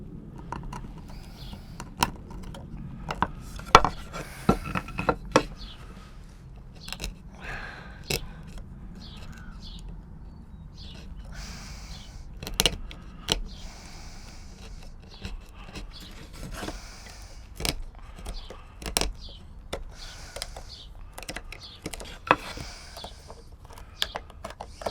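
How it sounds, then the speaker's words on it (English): Knife blade scraping and cleaning out a drilled hole in wood while building a wooden book and flower press, heard as scattered short scratchy clicks and scrapes over a quiet background, close and fairly soft. "Now I'm going to use my knife to clean that hole up"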